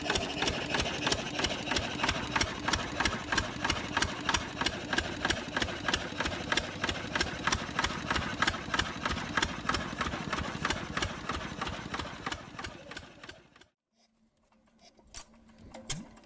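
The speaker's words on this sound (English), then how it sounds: "the Lister CS6-1 remains a favorite among enthusiasts and off-grid users for its simplicity, robustness, and enduring performance in producing power" A Lister CS6-1 vintage stationary diesel engine runs steadily, its rapid even thumping loud and close for about fourteen seconds before cutting to near silence, followed by a few faint knocks.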